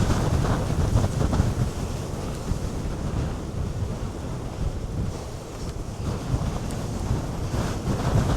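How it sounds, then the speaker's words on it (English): Strong wind buffets the microphone at the seaside on a whale-tracking outing, a steady loud roar with gusty swells and surf beneath, and no voices. "Very windy"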